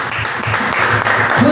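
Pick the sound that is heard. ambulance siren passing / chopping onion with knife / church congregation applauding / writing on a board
church congregation applauding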